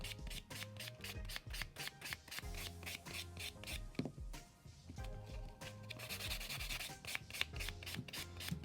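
Buffer working over a glitter nail enhancement with quick, rhythmic back-and-forth strokes, a close, raspy rubbing that continues almost without pause.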